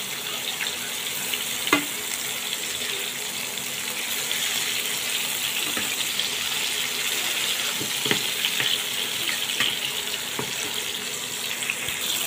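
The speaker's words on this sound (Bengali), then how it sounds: "এখন মাছটাকেও ভেজে নেব।" Kural fish fries in a pan with a moderate, steady sizzle, a close hiss under which soft clinks and brief ticks surface now and then, with no voices.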